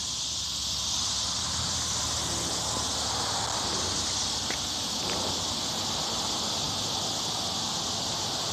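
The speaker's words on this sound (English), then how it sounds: "The noisy cicadas." Cicadas buzz in a loud, continuous, dense outdoor drone near Marysville, steady throughout with no talk.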